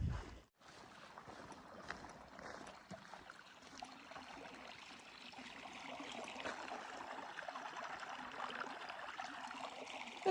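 Quiet, steady rush of creek water flowing beside the Pacific Crest Trail near Big Bear, a soft continuous burble with light wind noise after a short handling bump at the start.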